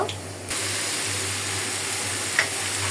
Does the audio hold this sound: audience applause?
no